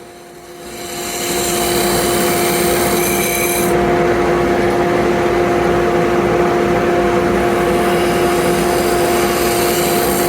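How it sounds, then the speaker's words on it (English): Continuous rasping scrape of a scraper against a wooden bowl turning on a lathe, with a steady machine hum and tonal whine beneath, building up then holding at an even level. "I take a couple of quick passes with the scraper just to refine this bottom surface of the bowl"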